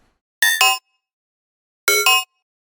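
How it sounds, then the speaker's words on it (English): A dubstep synth blip patch built in Ableton's Operator plays two short metallic, bell-like double hits about one and a half seconds apart. They are loud, dry and close, each ending abruptly in silence. "The first one is the main sort of blip that happens"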